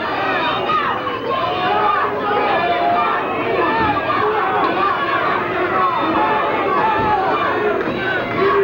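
A wrestling crowd at a 1997 indoor show in Missouri cheers and shouts steadily throughout, a dense mix of yelling and excited chatter with a commentator's voice talking over it.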